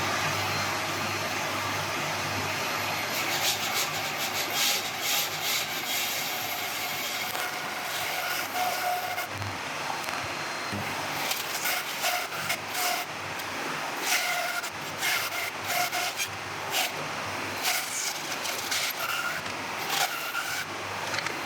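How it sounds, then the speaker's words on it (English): A bandsaw cuts an African mahogany bowl blank in a workshop, giving a steady, loud whirring drone with scratchy cutting noise that varies in intensity over about twenty seconds. "then we shall cut it out on the bandsaw"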